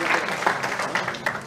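Applause from the audience at a local sports awards evening in Barentin, a brief patch of scattered clapping at moderate level.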